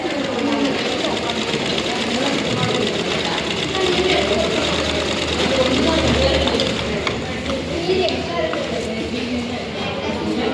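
Electric sewing machine stitching a blouse: a steady, close, rapid mechanical whirr running continuously with a slight surge midway, with someone talking over it at times.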